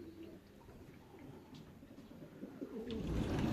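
Racing pigeons coo softly and intermittently at a loft while awaiting returning birds from a 360 km race, the low calls faint against a light background hum.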